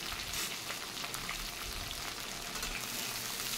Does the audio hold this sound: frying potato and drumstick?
yes